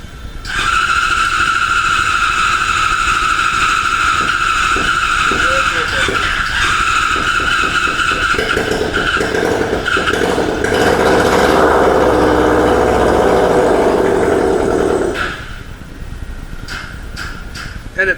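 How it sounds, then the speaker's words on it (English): A Formula SAE race car engine runs close by: a loud, steady, buzzy drone holds for about fifteen seconds, with slight rises in pitch, then drops away abruptly as the engine stalls. "So we're going to try and start the engine to see if we can read the engine RPMs"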